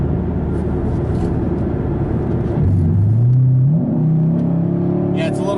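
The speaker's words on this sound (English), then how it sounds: "Yeah, what a great engine. Tons of torque." A 6th generation Chevrolet Camaro SS V8, driven in track mode, gives a loud close rumble, then revs climb in a rising sweep as it accelerates hard.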